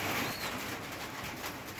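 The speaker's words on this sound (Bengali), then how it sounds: "এখানে যে কবুতরগুলো আছে" Pet pigeons in a home loft, including king pigeons, give a dense low murmur of cooing, a steady close chorus over about two seconds with no voices.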